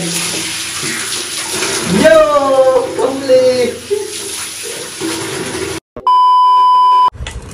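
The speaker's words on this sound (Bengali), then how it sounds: "তো জল পড়ছে এবার।" Water gushes from a newly fitted tap into a basin with a steady splashing rush, under a voice, then cuts off before a long electronic beep tone at the end.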